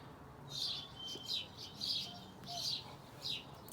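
Birds chirp and tweet outdoors on a day in Spokane, Washington, in repeated bright bursts of song set against a quiet background, fairly faint and a little distant, with no talking.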